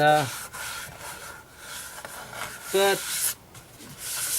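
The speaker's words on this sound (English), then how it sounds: "for me to apply sanding sealer to this" A cloth rubs sanding sealer steadily onto a spinning, spalted natural-edge wooden bowl, making a continuous scrubbing hiss, with brief bursts of a voice near the start and middle.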